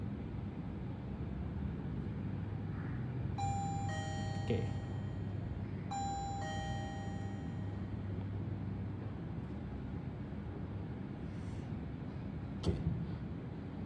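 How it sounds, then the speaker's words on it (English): A doorbell chime from an HBL400 Wi-Fi face recognition smart lock sounds twice, two bright electronic tones in quick repetition, over a steady low hum, with a brief spoken word near the end. "So push the bell button."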